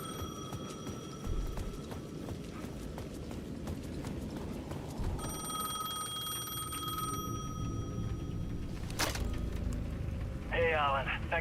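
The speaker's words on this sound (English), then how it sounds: "The payphone at the edge of the plaza was ringing again." A payphone rings at the edge of a plaza in GTA 6, bright repeated bell tones sitting over a steady crowd-and-traffic bed with clip-clopping and busy street ambience throughout.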